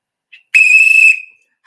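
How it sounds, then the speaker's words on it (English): A single sharp, shrill whistle blast sounds close and loud for about half a second after a brief short chirp, then fades quickly into silence. "So it's time to blow the whistle."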